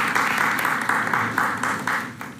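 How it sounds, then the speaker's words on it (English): An audience at a live Zildjian drum event claps together on cue, a dense, fairly loud burst of many hands that continues steadily for a couple of seconds. "If you guys can give me the golf clap"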